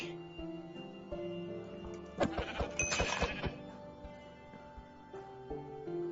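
Sheep in the Hungry World blocky video game bleat in a short cluster near the middle, game tones and clicks ticking around them.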